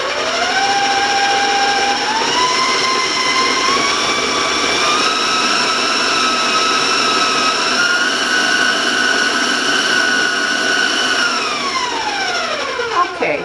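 A stand or hand mixer beats chocolate cinnamon brownie batter at high speed, a loud steady motor whine that climbs in pitch, holds, then winds down near the end, with no talking over it.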